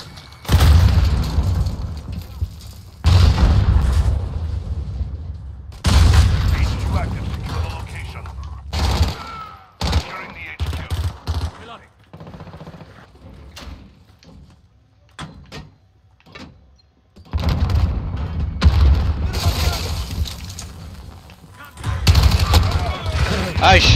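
Gunfire in Call of Duty Modern Warfare during a hardcore Headquarters match, with loud bursts and booming shots in several clusters separated by quieter stretches of game sounds and a voice talking.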